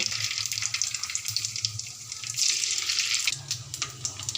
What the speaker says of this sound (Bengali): এবার ওই তেলের মধ্যে আমি জিরে, সর্ষে, মেথি ফোড়ন দিয়ে দেব।